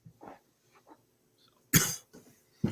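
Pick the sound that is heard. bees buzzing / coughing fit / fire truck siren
coughing fit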